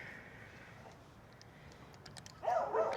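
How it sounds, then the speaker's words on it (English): Dogs bark in a neighborhood outdoors, a faint distant yip or two and then a louder burst of barking near the end, over quiet ambient background. "Barking dogs everywhere."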